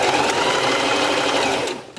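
A sewing machine stitches a fabric scrunchie, a fast, steady mechanical whirring that runs close and continuous before slowing and trailing off at the end.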